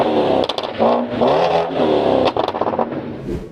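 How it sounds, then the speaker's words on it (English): BMW 550i 5 Series engine revs loudly and close, rising and falling in several pulls with a clattering edge between surges, with no talk. "Sound-wise, the car sounds something like this."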